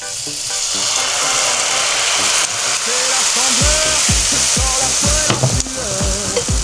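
Gluten-free crêpe batter sizzles loudly and steadily in a hot frying pan, a continuous close hiss and crackle throughout, with a voice heard faintly in the latter half.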